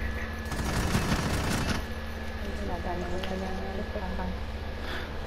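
Rapid bursts of video game gunfire, dense and loud for the first two seconds and then thinning into scattered shots, heard alongside ongoing talk from players.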